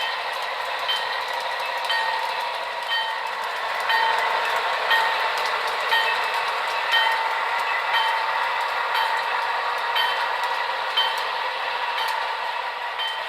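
An HO scale model train, the westbound Grand Canyon passenger train, rolls into Raton station on a layout, with a steady rumble, faint clickety-clack of wheels and light metallic clinks over about thirteen seconds.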